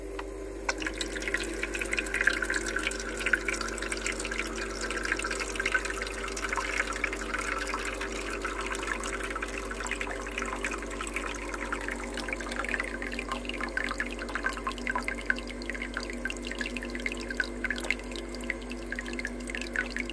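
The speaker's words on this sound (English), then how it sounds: "Now I can see the water is running properly." Steady running water with faint dripping inside an ice maker over a low mechanical pump hum, continuous and fairly quiet throughout.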